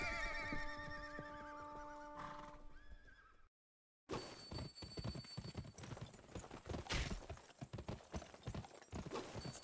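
In the Western video game Gun, a horse whinnies, then after a short silence its hooves clip-clop in a fast, continuous galloping rhythm, close and prominent.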